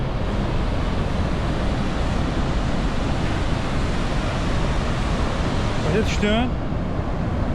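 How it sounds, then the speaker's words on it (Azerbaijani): Iguazu waterfall roars as a constant, dense, loud rush of water with no pauses, and a person speaks briefly near the end over the roar. "Braziliya tərəfində şəlaləyə aşağıdan yuxarı baxırsan"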